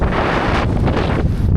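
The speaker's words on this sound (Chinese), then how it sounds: "世纪大风！" Strong wind at the Old Man of Storr viewpoint on the Isle of Skye, Scotland, roars and buffets the microphone without a break, a loud, dense rush of gusting noise.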